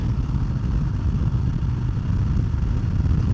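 Harley-Davidson Sport Glide motorcycle cruising on an interstate at about 70 mph in fifth gear, near 2,960 RPM: a loud, steady low engine drone blended with rushing wind, continuous and unbroken, with no voices.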